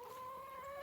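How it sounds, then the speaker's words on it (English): Free-range homestead chickens give a brief, faint, tonal cluck, heard alone with no talk. "so I got some more chickens as well"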